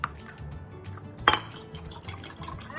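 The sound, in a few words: beating an egg with a fork in a bowl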